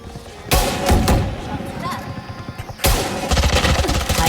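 Gunfire in the mobile version of the tactical shooter Valorant: loud broadband bursts near 0.5–1 s and again from about 2.8 s onward, with rapid repeated shots over a game soundtrack and background hum.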